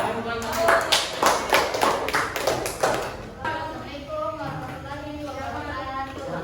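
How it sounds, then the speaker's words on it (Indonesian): A classroom group claps in a short rhythmic burst of about a dozen beats, followed by people talking and murmuring. "Tepuk tangan dulu untuk kelompok 2."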